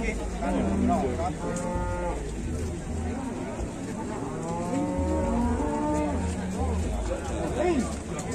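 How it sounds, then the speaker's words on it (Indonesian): A white cow with inward-curved horns gives several long, loud moos over steady crowd chatter and background commotion outdoors. "sapi putih guys, tanduknya melengkung ke dalam. Galak juga nih."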